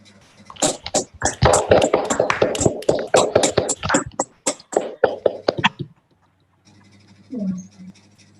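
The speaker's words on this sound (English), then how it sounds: "Can we please have a round of applause for Professor Yao's lecture?" A small audience gives a round of applause after a physics lecture, uneven sharp claps for several seconds that then stop, followed by a brief quiet sound.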